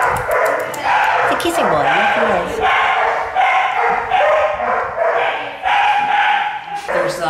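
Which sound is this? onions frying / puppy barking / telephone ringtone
puppy barking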